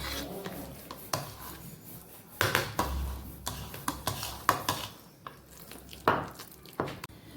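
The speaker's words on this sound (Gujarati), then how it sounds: "હવે બટેકાને પણ સાથે આપણે મેશ કરી લેવાનું આવી રીતે" Garlic, tomato and boiled potatoes mashed together in a pan, heard as irregular close scraping and thudding strokes, some sharp and some rubbing, without talk.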